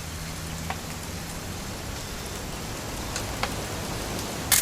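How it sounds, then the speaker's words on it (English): Steady rain falling in the video game What Remains of Edith Finch, a constant even hiss of drops on surfaces with a faint low rumble underneath and no voices. "It's gonna rain the whole weekend"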